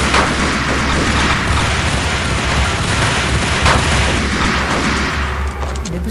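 Dense, sustained gunfire and mechanical clatter from the video game Max Payne, loud and close, forming a continuous wall of noise with occasional sharper bursts, without speech.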